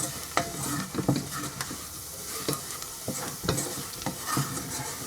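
A spoon stirs pumpkin soup in a pot after black pepper goes in, with scraping and clinking strokes at an irregular rhythm over a soft sizzling simmer, close and clear with no talking.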